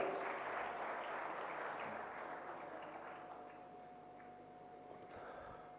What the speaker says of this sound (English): Ladies and gentlemen, a huge round of applause for Professor Dr.